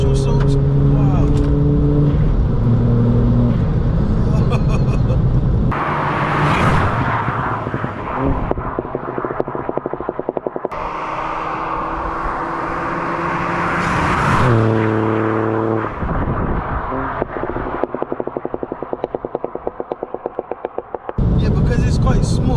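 A 155 bhp VW Up GTI small hatchback accelerating hard through the gears, its engine note climbing in repeated revving sweeps with pauses at each shift, loud from inside the cabin, with occupants talking over parts of it.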